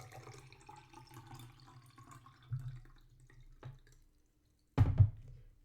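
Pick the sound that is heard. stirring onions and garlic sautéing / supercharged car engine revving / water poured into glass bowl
water poured into glass bowl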